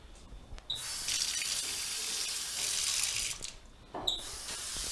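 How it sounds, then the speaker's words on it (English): Hot tap water gushes steadily from a kitchen faucet for a home-brewing batch, a loud continuous splashing rush that briefly changes pitch as the flow shifts. "we're just going to do tap hot water for this"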